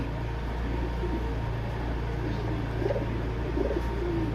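A pigeon coos softly a few times in the latter half, set against a constant low hum in a quiet indoor space.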